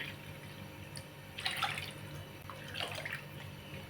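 Water poured into a pot on the stove for millet modak dough, two short splashy bursts of pouring against a steady low background.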